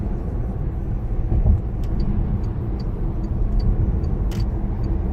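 A 2004 VW Touareg accelerating hard in sport mode, heard from inside the cabin as a steady, loud low engine rumble and road roar, with faint brief clicks above.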